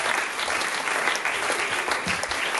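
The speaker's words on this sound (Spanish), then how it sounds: "Sí, podéis aplaudir." An audience at a comedy festival event bursts into dense, continuous clapping, a steady crackling wash that stays even from start to finish with no voices standing out.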